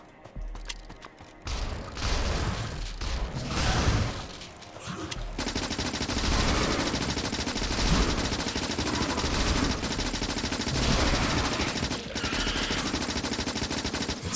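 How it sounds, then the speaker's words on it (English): Sustained machine gun fire in Factorio as turrets cut down attacking biters, a dense, continuous rattle of rapid shots that runs nearly unbroken and loud for the whole stretch, with no talking. "It's nice having the machine gun."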